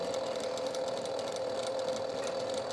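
Sewing machine stitching a zippered pillow cover, operated by a seven-year-old, running in a steady fast mechanical whir with a fine rapid rattle, continuous and close.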